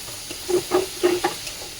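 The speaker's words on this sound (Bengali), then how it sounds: "একটু জল দিয়ে দাও, একদম অল্প জল দেবে।" Cumin spice frying in a pan hisses as a little water is splashed in, giving a few short sizzling bursts and stirring scrapes over a soft steady hiss, close by with no talk.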